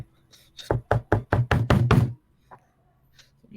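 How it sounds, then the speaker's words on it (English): Knocking on a locked door: a quick run of about eight firm, close knocks, evenly spaced and growing slightly louder, followed by quiet. "As you try to open the door, it's locked. I'm gonna knock."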